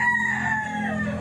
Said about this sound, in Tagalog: Ang ingay ng mga manok, mga kamigo-kamiga, oh.